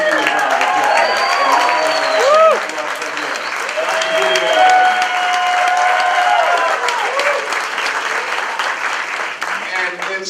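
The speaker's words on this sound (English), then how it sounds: "And so I just give her a round of applause" An audience at a leadership talk claps for a doctor holding both an MD and a PhD. The applause is loud and continuous, with whoops and voices rising over it throughout.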